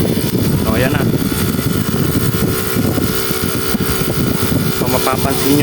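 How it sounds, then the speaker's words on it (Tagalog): TCL air conditioner outdoor unit with its fan spinning fast and compressor starting, a steady loud mechanical whir with some rattling vibration, while someone talks over it. "Tapos maandar na yung compressor. Ayan na, medyo maingay lang vibration."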